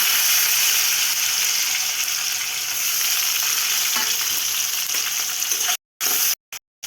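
Garam masala and onion frying in oil for duck curry, a loud continuous close sizzle that cuts out abruptly near the end in a few short gaps.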